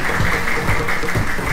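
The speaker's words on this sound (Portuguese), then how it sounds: "Uma salva de palmas!" An audience on a children's TV show applauds in a loud, steady wash of clapping that fills the whole short stretch with no talk over it.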